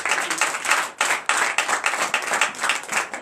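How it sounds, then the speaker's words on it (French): A church congregation at a night deliverance and prophecy service claps in lively, uneven bursts, with a brief dip near the middle before the clapping surges again, dense and close. "donnez de vives acclamations."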